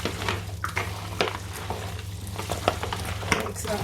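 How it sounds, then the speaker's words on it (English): Fresh seasonings are mixed by hand into raw goat meat in a bowl for Jamaican curry goat, giving a steady wet squelching with scattered sharper knocks over a low background hum. "I'm gonna mix up the fresh seasonings"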